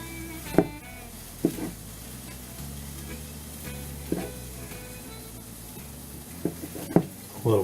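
Beef cubes searing in a preheated skillet, their fat rendering, give a steady low sizzle with a few sharp pops and taps from moving the pieces around.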